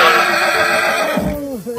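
A horse gives one loud, close whinny that trails off into a lower rumbling snort as a person speaks nearby.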